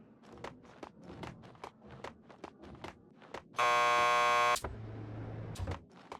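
A harsh electronic door buzzer in the video game Max Payne 2 sounds once for about a second, loud and steady. Footsteps echo on a hard floor before and after it.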